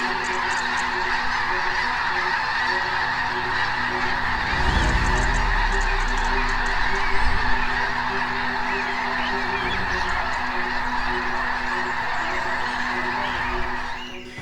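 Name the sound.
geese honking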